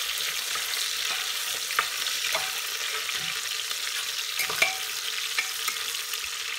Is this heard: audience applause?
no